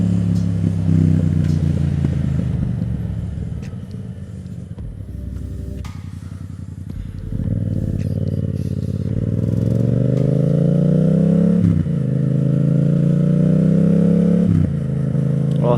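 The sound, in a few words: Yamaha MT-07 motorcycle riding and accelerating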